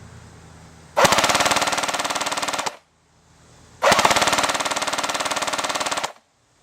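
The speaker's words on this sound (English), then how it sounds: "I'm going to shoot straight and see how that works" A Tokyo Marui TM2H airsoft rifle fires two long full-auto bursts outdoors, each a rapid, loud, even mechanical rattle lasting nearly two seconds, separated by a short quiet gap with no talk.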